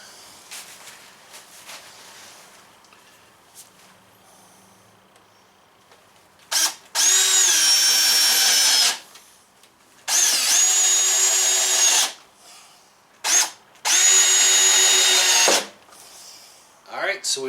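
A power drill drives screws into the trim of a teardrop trailer in three loud, whining bursts of a couple of seconds each, separated by quieter pauses with faint handling noise.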